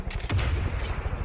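Grenade launcher fire in the video game Far Cry 5: a burst of heavy, booming detonations with a deep low rumble, loud and close, rolling through the short moment without pause.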